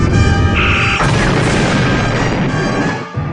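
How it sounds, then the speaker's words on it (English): Star Trek starship phasers firing in a space battle, a loud sustained blast with a high whining tone at the start, then a broad roaring rumble that fades near the end. "Our phasers are firing, sir."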